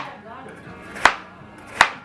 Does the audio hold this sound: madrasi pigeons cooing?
no